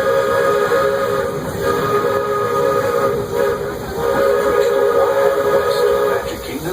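A Disney steam train at Magic Kingdom sounds its whistle in a long, loud, sustained chord over the low rumble of the running locomotive, with faint narration in the background.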